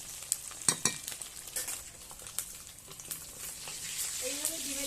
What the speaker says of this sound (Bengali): ডিমগুলো খুব সুন্দর করে লাল লাল করে ভেজে নিয়েছি